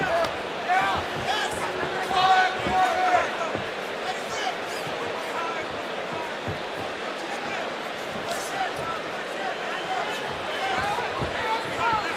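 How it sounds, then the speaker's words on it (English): Restless crowd murmur fills a Bellator MMA arena during a Benson Henderson fight, a steady dense babble with scattered shouts and thuds, fairly loud throughout, with commentators talking over it. "You hear the crowd getting a little restless"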